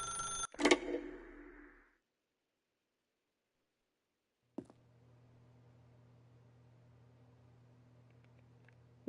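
In The Stanley Parable, a telephone rings once in a short burst, then after a long silence a low steady electronic hum sets in, faint and isolated.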